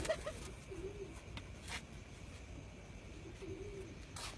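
A pigeon of a racing or flying breed coos softly, two low, rolling calls spaced a few seconds apart against a quiet background with faint clatters.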